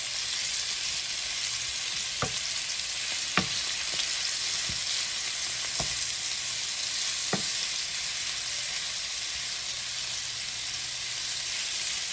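Beef and broccoli sizzle in a pan, a steady bright hiss punctuated by several sharp taps and scrapes of a wooden spoon stirring, with no talk.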